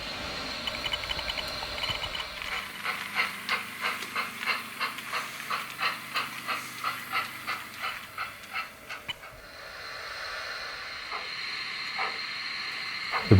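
The model train Britannia 7052 rolls into a platform on a layout, its wheels clicking in a steady rhythmic beat over rail joints that slows and fades, leaving a soft hum and a few faint clicks.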